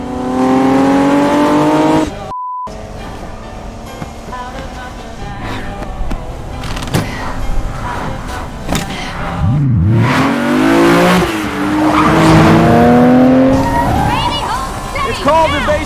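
During a car chase action scene, engines rev and roar while tires skid and squeal in loud bursts, with a brief silent break early on and people speaking over the commotion.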